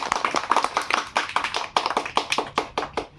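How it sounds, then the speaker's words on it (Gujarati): Children clapping together at a Teacher's Day celebration in a school setting, a rhythmic burst of close, sharp handclaps that carries on steadily and then tapers off. "એટલે બધા તાળી પાડો બધા"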